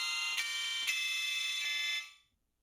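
A sample replayed at half speed and pitched far up on a keyboard gives a harsh, bright, buzzing, alarm-like synthetic tone, sustained with a few faint pulses before cutting off abruptly.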